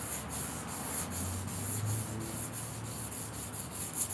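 Hand sanding on a Dodge Dart body with 400 grit sandpaper gives a continuous, steady rubbing hiss in close-up with faint rhythmic strokes, with no talk.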